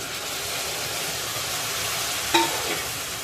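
Mixed fish sautéing in masala in a hot pan for an Agri-style kalvan, a steady, even sizzle hiss throughout with one brief clink of a utensil near the end, no voices.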